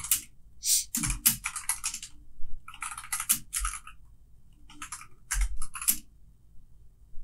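Quick bursts of typing on a computer keyboard, close and crisp, with clusters of rapid key clicks separated by brief pauses and heavier thumps of the space bar.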